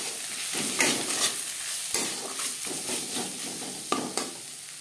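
Fried spices with salt and turmeric stirred in a pan for ghugni, the spice mix holding cumin, coriander, dried chilli, bay leaf and black pepper; a steady soft sizzle runs under repeated scraping stirs, close and moderately loud.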